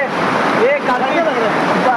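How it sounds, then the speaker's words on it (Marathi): A jungle waterfall gives a steady, loud rush of falling water, with a person talking over it. "हा धबधबा आहे"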